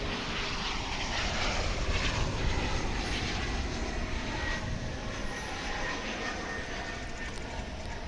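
An airliner arriving from El Paso at Dallas/Fort Worth airport, a steady distant engine roar that swells slightly and holds, broad and rumbling, with faint talk in the background.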